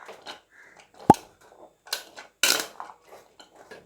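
A spoon scrapes and clinks against a pan while onion, tomato and green chili are stirred together for masala peanut sundal, a few sharp metallic knocks among soft shuffling, with no voice.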